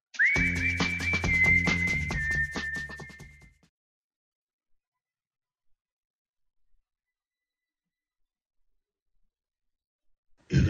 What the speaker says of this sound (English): play that hipster song with whistling